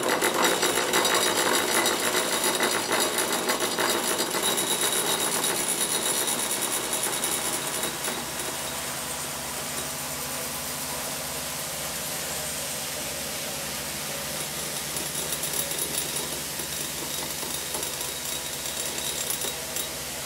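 Small homemade quadcopter motors, driven from a bench power supply starting around 10 volts, whir with a steady high-pitched buzzing drone that holds fairly loud and even throughout, with no talking.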